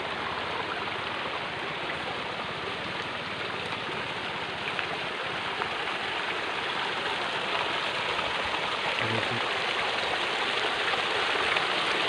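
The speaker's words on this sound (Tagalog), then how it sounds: "Ito yung maliit na sapa guys." A small stream flows with a constant soft, even burble and rush of water, moderately close and unbroken throughout, with no voices.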